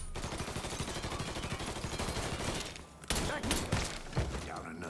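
Rapid gunfire in the Mafia III video game. A dense, continuous burst runs for about three seconds, followed by a few heavier separate shots. A voice is also present.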